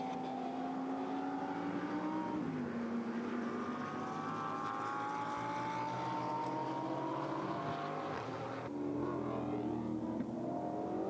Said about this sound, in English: I do love the sound of those Mercedes, though. Sound like Messerschmitts.